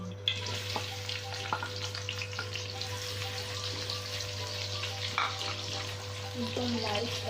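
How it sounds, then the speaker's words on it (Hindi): Two to three onions drop into hot oil for an egg kofta curry, giving a steady close sizzle and crackle of frying over a constant low hum, with faint stirring clicks throughout. "ये मेरे पास तेल है, गर्म हो गया। इसमें मैं प्याज डालूँगी 2 से 3।"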